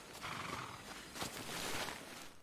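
A horse in the video game Shadow of the Colossus snorts and whinnies faintly amid soft hoof clops and background noise, a few short bursts spread across the moment.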